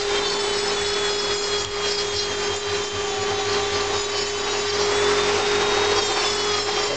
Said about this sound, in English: all you're trying to do is keep that dust down with the vacuum cleaner